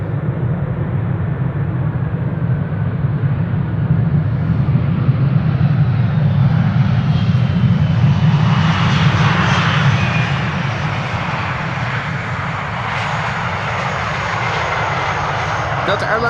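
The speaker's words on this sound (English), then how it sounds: "Delta Airlines flight 56 having arrived from Salt Lake City. A330-300, 19 years old." A 19-year-old Delta Airlines Airbus A330-300 landing at Amsterdam Schiphol on a sunny winter day, its engines a steady broad roar that swells in the middle and then eases into a sustained rumble, with no talk over it.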